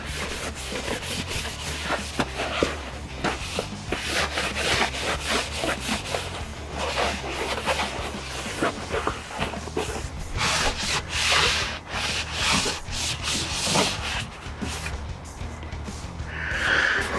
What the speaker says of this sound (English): We're going to use a dry piece to dry it all off.